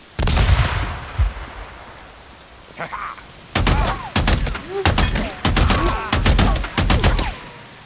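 Machine gun fire in Days Gone, delivered in several loud, close bursts of rapid shots separated by short pauses, after an initial blast and some quieter sounds.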